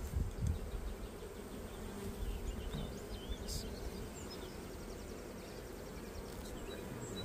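Honeybees drone in a steady, dense buzz from an opened beehive full of drones and queen cells, a continuous close hum with no voices over it.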